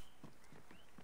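Camel footsteps in Assassin's Creed Origins, set in Alexandria: soft, evenly spaced padded thuds, roughly four steps in a second, faint against a low background hum.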